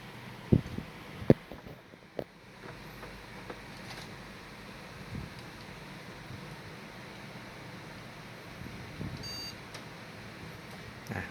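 A desktop computer powers on after a fault where it shut down whenever USB was plugged in; a faint short beep sounds over a low background hum, with a few sharp clicks early on.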